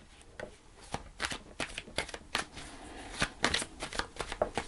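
Tarot cards are shuffled by hand, giving a steady run of soft riffling flicks and slaps that continues for several seconds, close and without speech.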